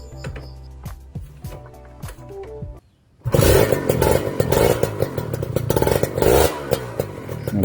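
A two-stroke Kawasaki Ninja with a racing exhaust and freshly replaced glasswool packing idles with a rattly, popping beat, then a sudden loud rev bursts in and stays rough and crackling, close by.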